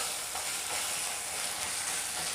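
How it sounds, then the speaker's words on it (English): Ginger and garlic cook in a pan over a medium flame, giving a soft, continuous sizzle and light frying crackle, faint and even throughout with no voices. "I will again cook this for another 5 minutes on medium flame."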